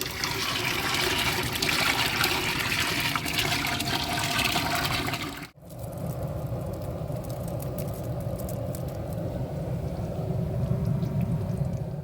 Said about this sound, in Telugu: మసాలాలన్నీ ఫ్రై అవుతూ ఉండగా చింతపండు గుజ్జేది అయితే వేసుకుందాం